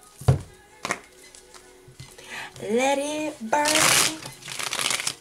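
Tarot cards are shuffled in quick papery riffles and taps, heard close and intermittent beneath a woman's sung and spoken phrases.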